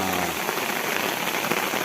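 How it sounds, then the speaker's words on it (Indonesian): Rain falls during a fishing trip as a downpour arrives with strong wind, producing a steady, even hiss of drops on surfaces throughout. "Inilah suasananya hujan-hujanan."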